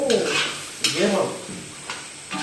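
Cashew chicken fry stirred in a pan, with a steady sizzle of frying broken by a few scraping stirs at intervals; no talk.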